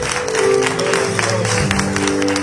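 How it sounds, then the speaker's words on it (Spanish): Church congregation applauding during a Spanish-language service, steady clapping layered over sustained tones from music or an organ-like drone, fairly loud and continuous. "¿Cuánto da un fuerte aplauso al Señor?"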